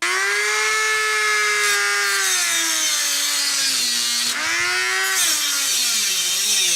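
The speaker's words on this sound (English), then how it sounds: "you're going to use your Dremel, and you're going to cut out an aluminum center disc" A Dremel rotary tool cuts an aluminum center disc with a loud, close, high-pitched whine whose pitch sags and recovers as the cutter loads and frees up, running continuously throughout.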